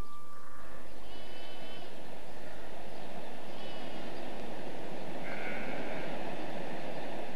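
Sheep bleat a few times, faint and wavering, over a loud, continuous low rumble of wind or engine noise that fills the clip.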